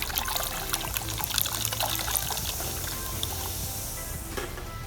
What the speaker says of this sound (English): We're going to use a half can of Sprite.